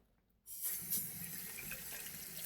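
Water running from a bathroom tap into a sink while rinsing the face, a steady close hiss that starts abruptly and continues without pause.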